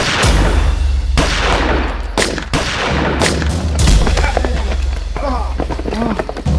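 Loud, dense gunfire erupts in a police shootout, with repeated sharp bursts and booms filling the scene; shouted voices are mixed in amid the shots.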